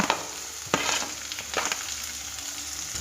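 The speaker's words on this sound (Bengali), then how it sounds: "সব সবজিগুলো তেলে ভেজে ফেলব।" Potato, carrot and long bean pieces frying in hot oil, a steady close sizzle broken by a few sharp spatula clacks and scrapes, no talking.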